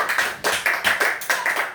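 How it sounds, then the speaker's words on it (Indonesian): A classroom group claps for a student team, several quick uneven bursts of hand claps close by, without voices. "Tepuk tangan dulu buat kelompok 3."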